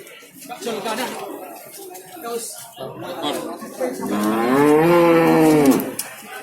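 Cattle at a livestock market in Jatirogo, Tuban, East Java moo loudly and close by, one long drawn-out low call near the end, amid a crowd of voices talking.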